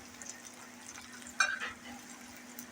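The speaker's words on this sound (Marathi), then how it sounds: "आता आपण चांगलं परतून घेऊया" Onion, tomato, red chilli powder, coriander powder and turmeric sautéing in a pan for masoor dal, a soft, low sizzle with one brief scrape of a spoon near the middle, quiet and close.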